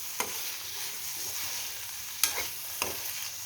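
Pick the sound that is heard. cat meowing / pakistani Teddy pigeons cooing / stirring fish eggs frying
stirring fish eggs frying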